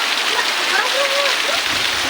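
Heavy monsoon rain falling near a house in a village, a steady close hiss of drops on surfaces throughout, with faint voices underneath.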